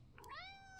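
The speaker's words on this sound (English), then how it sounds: "Say hello to my cat" A cat in a Jade Empire game session gives a single short, faint meow with a rising then sliding pitch, alone without talk.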